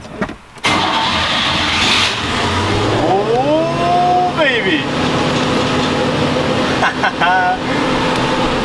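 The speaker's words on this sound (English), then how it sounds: "I don't know why it's idling so high" A car engine cranks and catches, then settles into a steady, abnormally high idle around 2,500 rpm with a brief rise in revs; someone speaks briefly over it.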